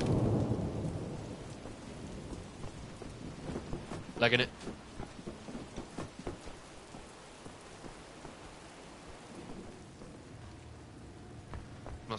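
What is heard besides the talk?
rain and thunder in the video game Wolfenstein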